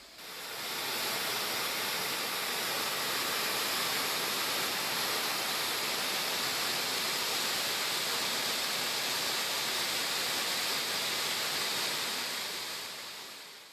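Water gushing from the Papanasam dam in Tirunelveli district as it is opened for irrigation: a steady, loud roar of rushing water that holds constant throughout.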